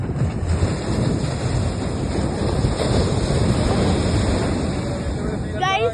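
Sea waves washing on a shore, a continuous close, loud roar of surf mixed with heavy wind buffeting the microphone, steady throughout with no speech.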